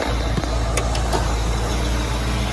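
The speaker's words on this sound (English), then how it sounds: "And we'll head over with the engine running." A 1966 Ford Mustang GT Tribute with a 289 V8 idling close by, a loud steady low rumble with a few faint clicks over it.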